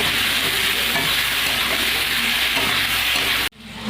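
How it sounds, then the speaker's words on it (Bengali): Mango pieces with chilli, salt and turmeric fry in hot oil, a loud dense continuous sizzle close up that cuts off abruptly near the end, with no speech. "এবার আমগুলো একটু আমি কষিয়ে নেব"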